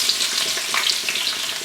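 Onions and garlic fry in a pan, a steady close sizzle with small crackles and pops running throughout, no voices.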